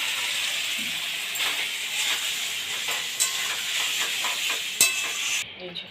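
Potatoes, pointed gourd and shrimp fry in a hot pan with a steady, loud sizzle and hiss, broken by a few stirring scrapes and clinks near the end.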